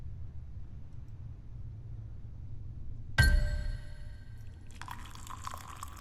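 Lamp oil is poured in The Lightkeeper game, starting with a sudden metallic clank. A short liquid pour follows and trickles out quietly over a low background hum, with no talking.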